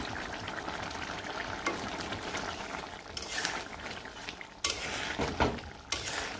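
A spoon stirs a pot of Bengali vegetable curry after ground garam masala paste is added, giving scraping and bubbling sounds under a low steady simmer, with a few sharper clinks toward the end.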